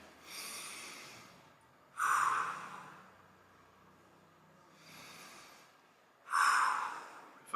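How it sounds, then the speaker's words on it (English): Slow, deep breathing during a foam rolling stretch for the knee, with loud close inhales and exhales in a steady repeating rhythm and quiet pauses between breaths. "Do some deep breathing, see if I can clear it up."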